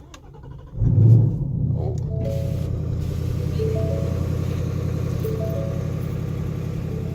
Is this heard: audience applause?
no